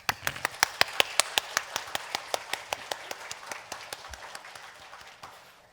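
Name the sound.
congregation clapping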